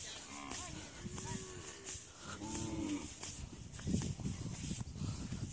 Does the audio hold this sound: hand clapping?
no